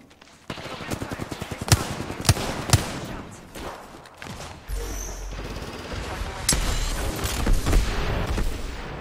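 Gunfire in an online battle royale game: rapid bursts of automatic fire crackle and pop, with heavy booming impacts later on. Game sounds and effects layer over the shots.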